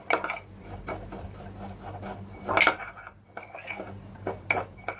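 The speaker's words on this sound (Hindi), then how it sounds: "इसको अब हमने मिक्स करते रहना है थोड़ा सा, जब तक हर चीज़ एक दूसरे के साथ अच्छी तरह मिक्स नहीं हो जाती।" A spoon stirs and scrapes a homemade lip scrub mixture in a bowl, giving a close run of small clinks and rubbing scrapes in an uneven rhythm, with no talk.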